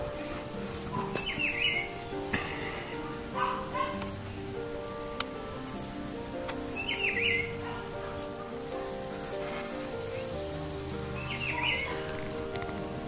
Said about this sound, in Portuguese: E o pitiguari está cantando.